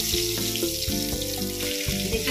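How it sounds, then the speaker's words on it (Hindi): Ridge gourd (nenua) pieces fry in hot oil in a pan, a close, loud, continuous sizzle with crackling and soft stirring bumps, no voices. "अब सभी नेनुआ को हम इसमें डाल के फ्राई कर लेते हैं इस तरह से।"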